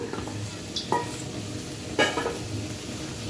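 Peas for matar paneer sautéed in a pan, a soft ongoing sizzle broken by a couple of sharp scrapes of a spoon against the metal, close and moderately quiet.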